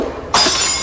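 An empty drinking glass bursts apart in one loud, bright crash, its ringing, crackling scatter of shards trailing on close and alone after a brief quiet moment.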